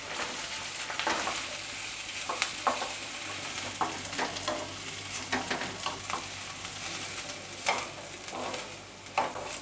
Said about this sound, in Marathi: तर पहिल्यांदा आपण यामध्ये कांदा आणि खोबरं घालूया आणि सोनेरी रंगावर आपल्याला परतून घ्यायचं आहे.